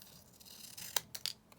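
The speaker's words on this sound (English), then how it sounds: "I'm just going to snip this down" Scissors snip through paper in a few quick, crisp cuts, close and fairly quiet, with a faint rustle of the sheet in between.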